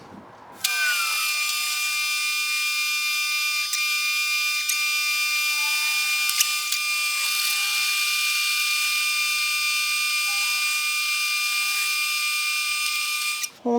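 A power drill bores holes in custom floorboard mounts for a 1994 Harley-Davidson Dyna, giving a steady, loud high-pitched whine that runs unbroken for about thirteen seconds, with faint ticks of the bit biting metal.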